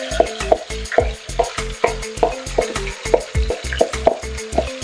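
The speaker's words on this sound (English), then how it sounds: "So can you hear the sizzling?" Seasoned oxtail sizzles and fries in a pot while being stirred, a close, loud sizzle broken by regular rhythmic scraping strokes, with no talking.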